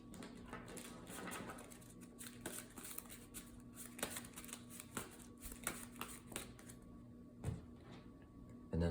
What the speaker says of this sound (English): and then let's shuffle up the encounter deck here